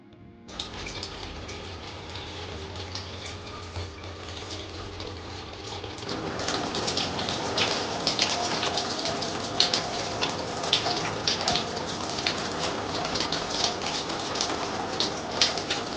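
Water pours steadily from a running shower in a spring morning routine, a dense hissing spray that starts softly and grows louder and fuller after a few seconds, continuing without pause.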